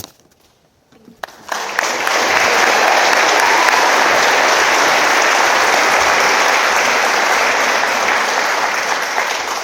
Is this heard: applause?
yes